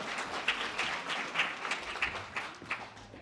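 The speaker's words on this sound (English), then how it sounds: "Again, applause for Sarah." Audience applause at the awards ceremony of a 2023 WA State Powerlifting Championships, a moderate crowd clapping steadily with a few louder, distinct claps standing out from the wash of sound.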